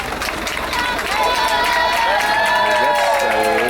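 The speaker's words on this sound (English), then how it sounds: "That's a loud round of applause." Parents and supporters clap and cheer loudly along the course of a primary school cross country race, with a commentator's voice running over the crowd noise.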